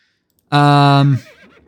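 A single horse whinny from the medieval strategy game Stronghold Crusader Definitive Edition, one loud, clear, harmonic call lasting under a second, then fading quickly.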